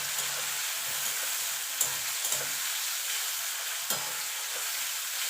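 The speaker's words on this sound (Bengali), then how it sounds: "চিংড়ি মাছটা দিয়ে একটুখানি ভাজা ভাজা করে নেব।" Prawns fry and sizzle in an oiled pan with onion, a loud continuous hiss broken by a few brief scrapes and taps of the spatula stirring them.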